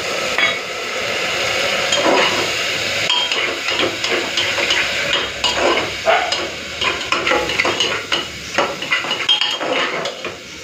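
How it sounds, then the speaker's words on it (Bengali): Spice paste for mutton curry sautés in a pan, with a soft sizzle under frequent loud scraping and clanking of a spoon against metal, close and busy, with no speech. "এই যে মশলাটা ভালো করে কষে নিয়েছি"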